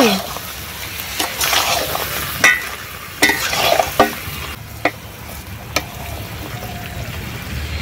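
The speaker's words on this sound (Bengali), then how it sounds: "মাংস খুব সুন্দরভাবে কষানো হয়ে গেছে।" Chicken curry meat frying and being stirred in a pan sizzles steadily up close, with sharp scrapes and clanks of the spoon at irregular intervals and a voice talking at times.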